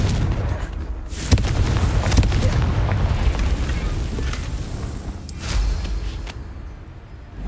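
In the Hogwarts Legacy video game, the Confringo blasting spell goes off with heavy booming blasts and rumbling crashes, loud and close, followed by a fading roll of debris-like noise.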